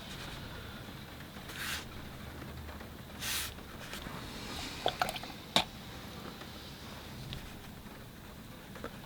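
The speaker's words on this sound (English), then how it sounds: "And I just rinse the brush" A round watercolor brush is swished and rinsed in a water container, making faint, soft little splashes and drips clustered together amid quiet room tone.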